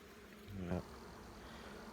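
Honey bees at a beehive in a breeding apiary, a faint steady buzz in the background with one closer bee droning briefly past near the middle.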